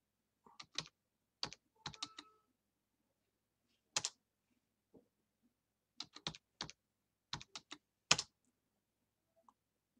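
Password being typed on a computer keyboard while setting up a BeagleBone Black Rev C, a few sparse bursts of crisp key clicks with pauses between, close and fairly quiet, no talking.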